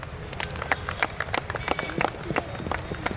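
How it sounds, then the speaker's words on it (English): Crowd applause at a sports league award ceremony as the runner-up team captain is called up, dense rapid clapping from a nearby group with a background murmur of voices. "Round of applause, guys."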